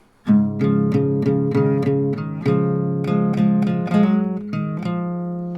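An acoustic guitar plays a picked riff, a steady series of plucked notes ringing into one another, close and clear with no voices.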